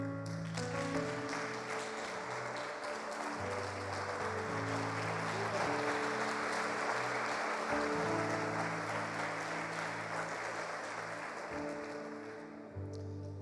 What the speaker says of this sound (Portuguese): Se você quiser aplaudir ao Senhor.